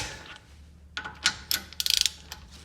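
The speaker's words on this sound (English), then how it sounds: "So you just keep going until it clicks. That's the whole purpose of the torque wrench." A torque wrench ratchets and clicks while wheel studs are tightened, a few sharp metallic ticks followed by a quick rapid burst of clicks, close and clear over quiet background.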